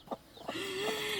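A small hen clucks on a farm with a few soft, brief clucks, then a longer drawn-out call, fairly close and quiet.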